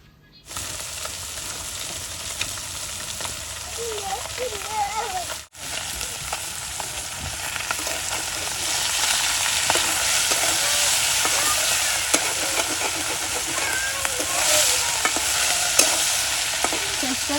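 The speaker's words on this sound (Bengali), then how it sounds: "মাছগুলো প্রথমে ভেজে নেব তারপরে রান্না করব" Fish frying in mustard oil, a steady close sizzle with bubbling crackle that runs throughout and grows a little louder in the second half, with no one speaking.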